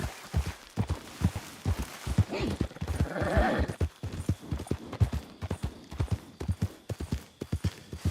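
Horse hooves clip-clop at a steady trotting rhythm in a ranch role-play video game, close and fairly distinct, with a brief denser patch of movement midway before the even beat resumes.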